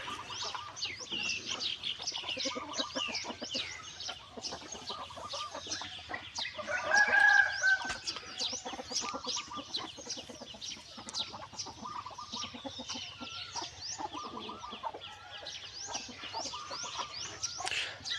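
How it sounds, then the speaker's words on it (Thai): Chickens clucking steadily throughout, with a rooster crowing midway, a busy farmyard chorus heard up close without people talking. "ไก่ไก่เหลือมาแล้ว"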